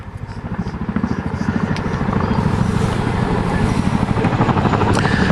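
Deep, rapid rotor thumping from a Chinook helicopter at a 2007 airshow display, loud and steady, with a heavy rhythmic chop that grows slightly louder over the clip.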